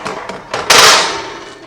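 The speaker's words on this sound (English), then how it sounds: "readjust my racks" Metal oven racks being shifted inside a home oven, a few light clinks followed by a loud scraping metallic clatter that rings out and fades, close by.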